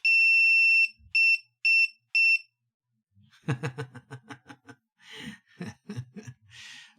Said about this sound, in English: Set option 67 enables the beep.